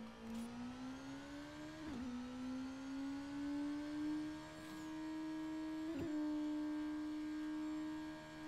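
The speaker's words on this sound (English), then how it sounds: "Car sounds all right." Car engine in the racing video game World of Speed, a steady mid-pitched drone that climbs gradually with brief dips at gear shifts, fairly quiet and without talk.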